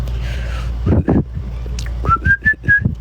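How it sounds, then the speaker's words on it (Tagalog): Someone whistles indoors at night in a mountain setting: a few short rising whistled notes come close together after some soft thumps and shuffling, near and clear, with no talking. "bawal pala sumipol no kapag gabi"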